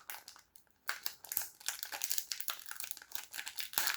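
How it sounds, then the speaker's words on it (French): A Pokémon Black & White booster pack is torn open up close, with bursts of loud crinkling and crackling foil that come in rapid clusters after a brief quiet start. "on va essayer d'ouvrir correctement ce booster. Le truc c'est que les boosters noir et blanc sont compliqués à ouvrir"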